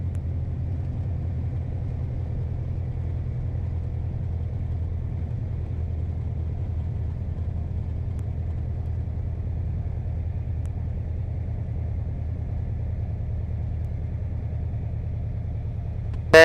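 A light airplane engine idles on a ski-resort runway, a low, steady droning rumble that stays even and continuous throughout, close by, ending in a short sharp noise at the very end.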